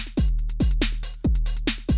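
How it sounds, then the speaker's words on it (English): A drum machine pattern is built on a fat analog Jomox kick, whose deep booming hits pitch down sharply, with snappy hi-hat and snare hits in a tight, loud, repeating electro groove and no talking. "I've just taken a drum pattern and a programming that I used for a previous track, and it sounds like this"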